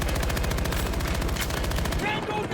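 Rapid automatic gunfire in the shooter game Battlefield 2042 rattles in a steady, dense stream of loud shots for about two seconds, then cuts off, with a voice faintly under it.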